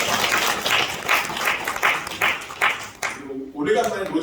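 Church congregation applauding during a Sunday service welcome, a steady patter of many hands clapping for about three seconds before fading, followed by a voice speaking.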